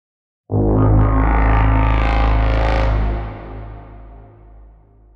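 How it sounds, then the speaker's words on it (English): A dark, heavily distorted synth chord swells in, sustains loudly, then fades into a long, murky reverb tail. "for these types of sounds, they like really benefit from some tasteful dark reverb happening"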